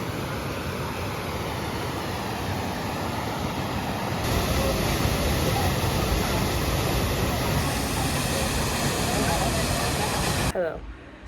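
Rushing water from a waterfall on the Ha Giang Loop in northern Vietnam roars as a loud, steady broadband wash that swells slightly midway before cutting off abruptly near the end.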